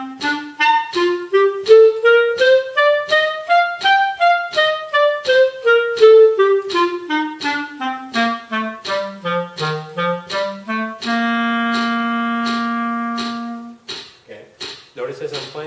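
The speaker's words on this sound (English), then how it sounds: "I'm getting a good, clear staccato sound, and you can hear a lot of space between the notes." Staccato notes on a reed instrument, played as evenly spaced detached tones that climb and fall in a scale, then one sustained note and a few more short ones, with metronome clicks keeping time and no talking.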